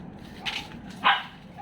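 Corgi puppies give two short, high yips, the second louder and closer, over a quiet indoor background.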